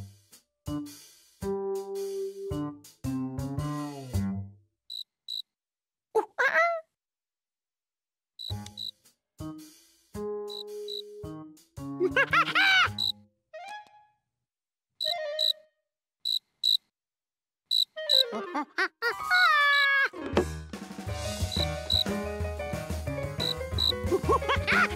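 Crickets chirping in the cartoon Curious George, bright, rapid repeated chirps in short bursts separated by silences, alongside other cartoon sound effects and a busier passage of layered chirping toward the end.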